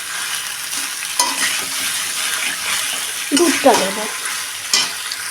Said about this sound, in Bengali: এখন ভালো করে কষে নেব